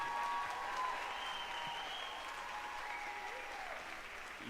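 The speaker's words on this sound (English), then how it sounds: "Let's give them all a big round of applause as they head back to the barn." The audience at a school district livestock show lamb competition applauds as exhibitors lead their lambs back to the barn, steady crowd clapping under faint voices and background noise.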